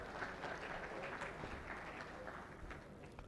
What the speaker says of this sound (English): Let's clap hands for Imo State.